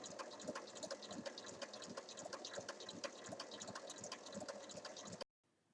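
A sewing machine stitches bias binding onto the wrong side of a fabric notebook cover, running steadily with a close, even whirring patter for about five seconds before it stops abruptly.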